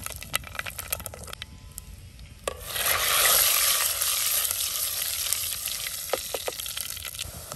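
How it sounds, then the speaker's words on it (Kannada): Mustard seeds hit hot oil for tempering and set off scattered sharp pops, then a sudden burst of loud sizzling that keeps going steadily with a few more crackles near the end. "ಸಾಸಿವೆ ಪಟಪಟ ಅಂತ ಹೊಡಿತಾ ಉಂಟು"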